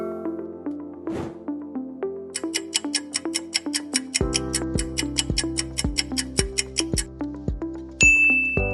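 A notification bell dings once, followed by a steady run of bright, ringing chime-like tones over a plucky melodic backing, ending in a louder shimmering accent; clear and close, with no talk.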